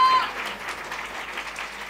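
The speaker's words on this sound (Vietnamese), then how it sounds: "chúng ta sẽ vỗ tay lớn lên ngợi khen Chúa" Applause from a church congregation praising God, a steady, dense wash of many hands clapping at moderate volume, continuing evenly throughout without a break.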